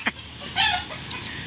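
A native chicken clucks in short bursts close by, a few distinct calls with brief pauses between them.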